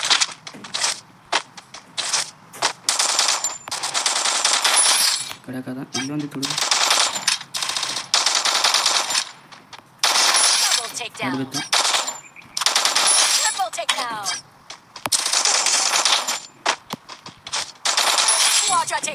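Rapid bursts of automatic gunfire in the Free Fire battle royale game come in repeated volleys separated by brief gaps, with a player talking over the shooting.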